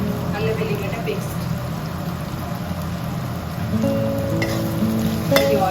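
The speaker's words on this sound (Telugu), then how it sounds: "ఇది ఆయిల్లో బాగా ఫ్రై అయింది" Ingredients for a drumstick sambar frying in oil, including ginger-garlic paste, with a moderate continuous sizzle alongside faint tonal sounds and a few light clinks near the end.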